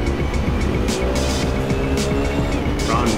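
A Nissan GTR GT3 race car in Assetto Corsa roars past at Imola, its loud engine note sweeping by alongside other cars' engine drone, with brief tire noise as it heads toward the corner.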